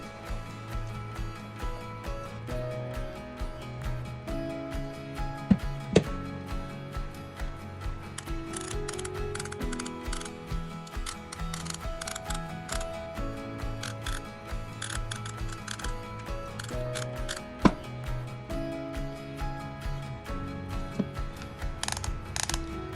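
A J Bingham No 126 hand brace is worked by hand, its ratchet clicking in quick uneven bursts with light metallic ticks and a few louder snaps, close and fairly quiet.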